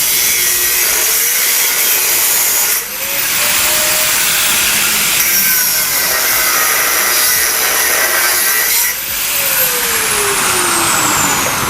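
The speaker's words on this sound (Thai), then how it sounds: "แล้วเราตัดตัวสวมออกนะครับ ตัดตัวสวมออกแล้วก็ให้ PX เชื่อมเข้าเลยก็แค่นั้น" An angle grinder or cutoff tool cutting off a motorcycle exhaust slip-on fitting in a workshop, a loud continuous abrasive whine that dips briefly twice as the cut shifts, with no talking.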